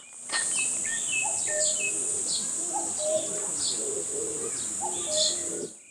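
Outdoors at a summer campsite, a cuckoo repeats a mellow two-note call at a distance, with other chirps scattered over a constant high insect-like hiss.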